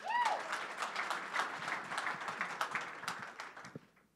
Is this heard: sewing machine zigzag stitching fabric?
no